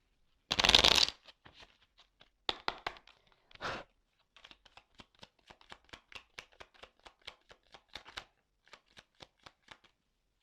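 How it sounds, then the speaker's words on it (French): Tarot cards being shuffled and drawn: a loud riffling burst at the start, a couple more short shuffles, then a long run of soft, evenly spaced card snaps and flicks, close and alone without voices. "je prends encore quelques cartes"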